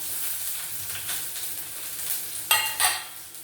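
Onion and dried red chillies sizzle in a hot pan with oil, a steady faint frying hiss punctuated by a couple of louder spitting bursts near the end.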